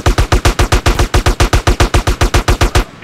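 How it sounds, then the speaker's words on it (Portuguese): Rapid, evenly spaced bursts of automatic gunfire in the video game GTA San Andreas, about twenty shots in a steady rhythm, loud and close with no voices. "Os caras estão metendo tiro em mim"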